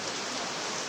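Steady rain falls as an even, soft hiss of drops with no pauses, faint and uniform throughout.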